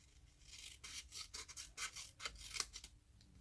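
Scissors cut through paper from one corner toward a score line in a stamping craft project, giving soft, scratchy rasping strokes that come close and quiet in an irregular rhythm.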